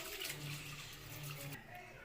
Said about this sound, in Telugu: పప్పుని శుభ్రంగా రెండు మూడు సార్లు కడుక్కోవాలి